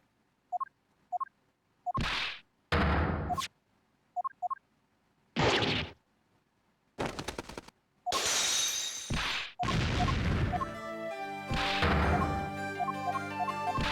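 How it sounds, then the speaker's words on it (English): Explosion and crash effects from the video game Apollo Justice: Ace Attorney: sharp bursts and shattering hits, some short and clipped, then longer roaring blasts layered with ringing music tones, with silent gaps between them. "Listening to all the explosion noises."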